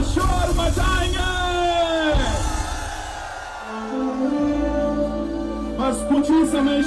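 A live concert crowd at an evening devotional show in Indore, Shiva-themed, rises in yells and whoops while an announcer's voice carries over the hubbub, fading to a lull before more scattered shouts.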